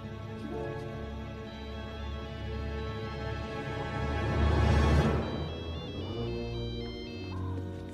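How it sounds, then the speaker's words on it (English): A melodic satellite phone ringtone plays continuously for several seconds from a film scene, swelling louder midway with a rushing sweep before settling back to the tune. "Find it before it stops ringing."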